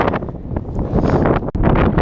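Gusty wind in an open field buffets the microphone with loud rumbling bursts and one brief dropout, no voices heard.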